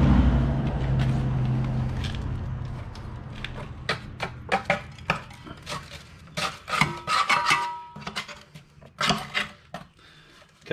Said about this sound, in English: I'm just gonna get all this crap off from underneath and give the blades a sharpen